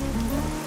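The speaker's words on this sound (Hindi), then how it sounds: "ये बारिश है कि रुकती ही नहीं है।" Steady rain falls in a dense, continuous hiss, close and moderately loud, with no voices over it.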